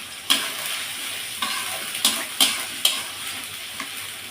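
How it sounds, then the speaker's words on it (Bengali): Meat spice masala frying and being stirred in a pan with a little water, a soft sizzle broken by several sharp scraping stirs of a spoon against the pan, close and clear, with no voices. "মশলাটা বেশ ভালো করে কষিয়ে নেব।"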